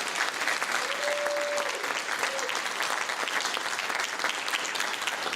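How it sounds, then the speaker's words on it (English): Sustained audience applause fills a public hearing room, steady dense clapping throughout, with a brief tonal whistle-like ring partway through. "Give Heather another round of applause."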